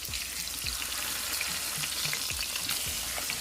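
Salmon pan-searing with garlic and herbs gives a dense, even sizzle, close and steady, with occasional faint pops and ticks and no talking.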